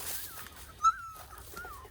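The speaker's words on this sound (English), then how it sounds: "If there's 11, then Dixie's stealing puppies from somewhere" Young puppies whimpering, thin high-pitched whines and squeaks coming in short scattered bursts, one sharper yelp in the middle, faint against a quiet room.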